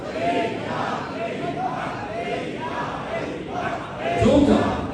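A large crowd at a religious gathering chants "Haq Farid ya Farid" in loud, repeated unison calls, with the massed voices swelling toward the end.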